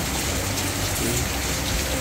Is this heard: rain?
yes